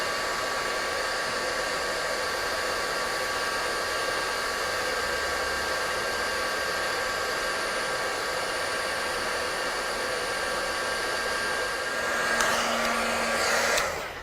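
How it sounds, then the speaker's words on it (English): A heat embossing tool warms embossing powder on a card, giving a steady, loud, hair-dryer-like whir that runs unbroken from start to finish and shifts slightly near the end. "And I'm going to bring in my embossing tool. Get it nice and warm."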